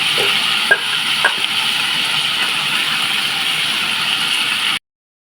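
Malabar spinach leaves tossed into a pan of frying potato and pumpkin, giving a steady close sizzle with a few brief stirring clicks before it cuts off into silence.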